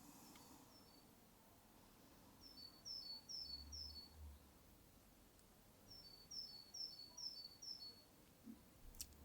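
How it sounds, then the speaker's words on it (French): Small birds sing outdoors in the evening with two distinct runs of quick, high, repeated notes, faint and at some distance, over quiet low background noise. "Nous sommes accompagnés par pas mal d'oiseaux ce soir."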